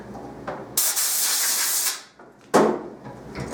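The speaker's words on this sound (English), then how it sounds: "So blow this swarf out of the way." Compressed air hisses loudly in two bursts, a long steady blast and then a shorter one, clearing metal swarf out of a thread-cutting die in a home garage workshop.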